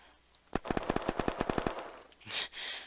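A rapid burst of about eleven evenly spaced automatic gunshots in the video game Unturned, sharp and close, followed by a couple of louder whooshing impacts.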